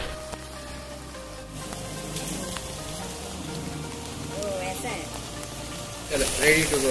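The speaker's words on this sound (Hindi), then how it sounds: "देखो कितनी तेज बारिश हो रही है।" Heavy monsoon rain pours steadily on an outdoor surface, a dense continuous hiss with patters, growing louder toward the end; faint background voices are present.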